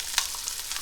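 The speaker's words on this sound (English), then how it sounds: "Gonna fry our egg." An egg sizzles in a hot pan, a short burst of crackling and spitting with a few sharp pops over a steady hiss, close and moderately loud.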